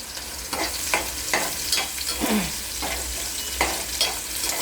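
Toor dal stirred into fenugreek greens frying in a pan, a steady hiss of sizzling oil broken by repeated scraping strokes of a spoon at a regular pace, close and clear with no talking.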